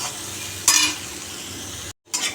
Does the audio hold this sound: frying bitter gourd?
yes